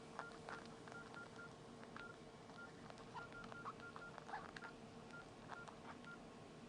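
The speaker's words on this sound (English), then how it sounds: "sometimes the beeps don't keep up with my typing" Nokia E63 keypad beeping during typing: short, faint, evenly pitched tones scattered irregularly over a steady low hum, with no voices.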